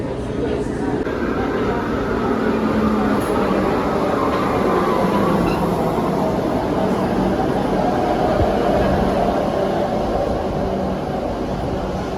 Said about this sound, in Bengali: ওই যে মেট্রো আসছে